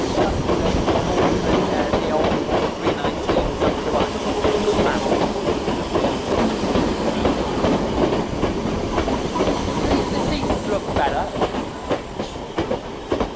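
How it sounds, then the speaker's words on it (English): Old Class 313 electric train, unit 313049, on the Northern City Line at Finsbury Park, rumbling loudly and continuously close by with hiss and rhythmic wheel clatter. "here is our train to Moorgate, 313049"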